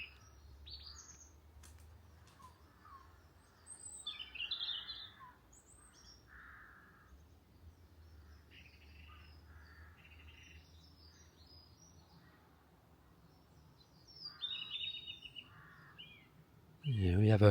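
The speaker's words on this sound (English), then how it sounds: "we have a robin and a song thrush singing from the same direction" Robin and song thrush singing from the same direction in an outdoor spot, faint scattered phrases and chirps over a low background rumble, with a loud thump or handling noise at the very end.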